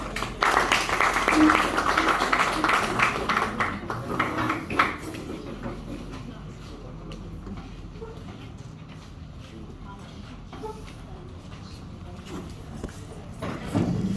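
Seminar audience in an English and literary studies department applauding for a session chair, a loud scattered round of clapping that thins out and fades into a quieter room after about five seconds.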